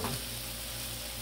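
Pepper sizzles quietly and steadily on a Blackstone griddle, a soft continuous frying hiss with a faint stirring scrape at the start and no talk.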